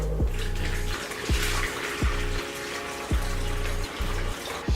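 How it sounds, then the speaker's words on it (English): Hot water pours steadily into a bowl, a continuous rushing splash with a rhythmic pulsing thump repeating about once a second underneath, close and fairly loud. "The water into this bowl."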